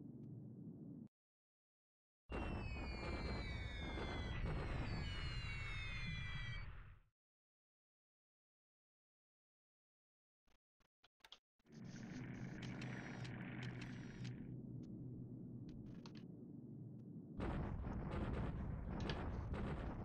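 Bombing in the strategy game War in the Pacific: Admirals Edition, heard as loud, sustained rumbling blasts in separate blocks several seconds long, with silent gaps and clicks between them, and no talk.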